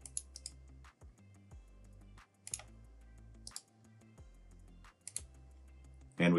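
Computer mouse clicks in configuration software come as sharp, isolated ticks spaced about a second apart over a low background hum, close and fairly quiet.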